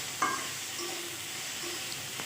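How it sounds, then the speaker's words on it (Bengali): Onion and chopped tomato sizzle steadily in a pan for a Bengali tangra fish curry, a continuous close hiss with a few faint clinks of a utensil and no talking. "পেঁয়াজটা ভাজা হওয়ার পরে কেটে রাখা টমেটোটা দিয়ে দিয়েছি"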